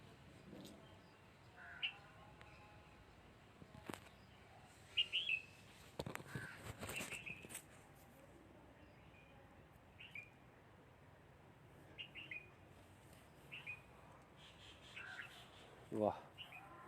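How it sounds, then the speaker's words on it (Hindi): Small birds chirping outdoors under orange and mango trees: a few faint, scattered tweets spread across a quiet background hum, with occasional soft rustles and knocks nearby. "चिड़ियों की आवाज़ आ रही।"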